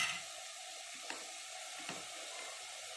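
Tamarind juice sizzles as it goes into a pot of cooking spinach khichdi, a quiet, steady crackling sizzle with a couple of soft clicks.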